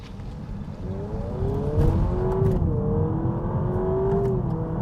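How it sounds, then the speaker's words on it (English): A Honda Prelude coupe launches hard from a standstill on a 0 to 60 run, its engine revving up through manually changed gears with rising and dropping pitch, loud and close, with no talking. "I'm going to launch the car and I'm going to change gears myself."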